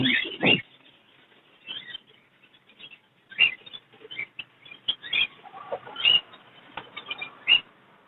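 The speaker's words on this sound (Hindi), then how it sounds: "ये फिशर का पेयर है, ब्रीडर पेयर है।" A breeding pair of Fischer's lovebirds at a bird market gives off scattered sharp chirps and brief rustling flutters, close and irregular, with quiet gaps between them.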